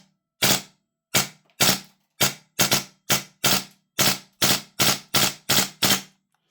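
Vorsk VMP-2 gel blaster firing from a long magazine on semi-auto, about fourteen sharp, loud, close snapping shots, some spaced apart and others in quick rapid runs, each cutting off cleanly into silence.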